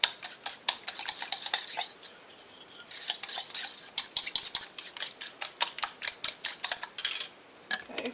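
Eggs are whisked in a dish for French toast, giving rapid rhythmic clinking and scraping of utensil against the bowl, close up, in quick repeated strokes with a few brief pauses and no talking.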